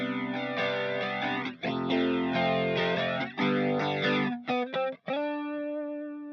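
Electric guitar through a built-in Mesa amp model with chorus, strummed chords shimmering and ringing out, a few sharp staccato hits, then a final chord left to decay, clean and close.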